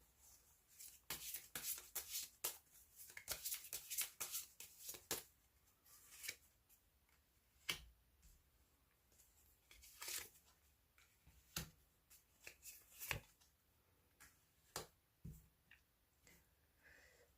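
Tarot cards shuffled and drawn by hand, quick crisp riffles and slaps bunched in the first seconds, then sparse single card snaps and taps, close and quiet in a still room.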